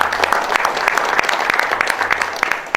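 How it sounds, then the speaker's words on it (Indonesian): An audience claps steadily for about three seconds, a dense patter of many hands with a few sharper individual claps standing out, close and fairly loud, at an official gathering in Indonesia. "Ya, tepuk tangan dong semuanya."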